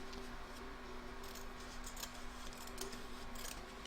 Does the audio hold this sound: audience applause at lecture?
no